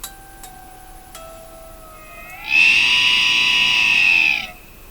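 An electric guitar plays an elephant dive bomb with harmonics: ringing harmonic tones slide down, then a loud, bright, sustained squealing swell rises and holds before cutting off.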